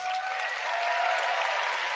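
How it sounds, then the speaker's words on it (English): Conference audience applause for the Figma team at Config 2025 in Barcelona, a continuous even roar of many hands, steady and fairly distant, with a faint tone beneath. "Please give these folks a round of applause."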